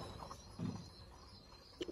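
Pigeons coo softly indoors, with a few faint low murmuring calls spread over a quiet background.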